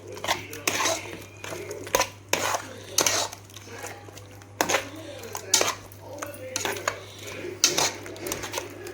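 Curd chicken is mixed in a bowl, with repeated clinking and scraping of a utensil against the bowl in quick irregular bursts, close and moderately loud, under a low steady hum.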